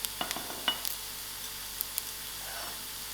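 A cinnamon stick dropped into hot oil with browned onions, giving a soft continuous sizzle and hiss with a few faint clicks, quiet and close, no voices.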